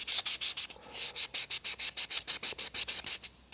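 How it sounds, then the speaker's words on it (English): Abrasive paper lightly sanding a turned wooden bowl gives a quick, even series of soft rasping strokes, close and fairly quiet, with no voices. "I have to lightly sand that off."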